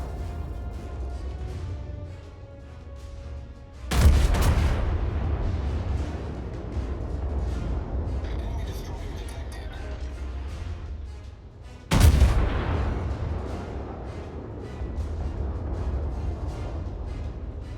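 Naval guns of a World of Warships battleship fire in two heavy booming salvos several seconds apart, each followed by a rumbling tail over a low engine and sea ambience.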